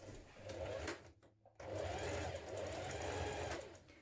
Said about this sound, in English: I'm going to stay stitch it across the top